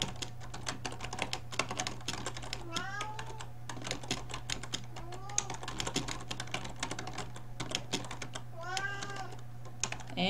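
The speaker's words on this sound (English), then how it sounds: "And my cat is meowing." A cat meows several times in drawn-out calls, spaced a few seconds apart, while computer keyboard typing clatters steadily close by over a constant low electrical hum.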